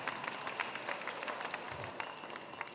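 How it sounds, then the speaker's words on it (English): An audience at a Lumbee cultural presentation applauds, a faint, steady patter of many hands heard from a distance with scattered sharper claps throughout. "I just want to give her a round of applause"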